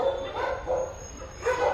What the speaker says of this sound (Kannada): ಎಷ್ಟು ಅಳ್ತಾ ಇದೆ ಮೂಕ ಪ್ರಾಣಿಗಳು